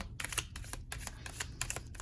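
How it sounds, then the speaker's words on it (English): A deck of tarot cards being shuffled quickly by hand, a close, steady run of crisp clicking riffles and flicks with no talk. "make somewhat quick work of this shuffling too"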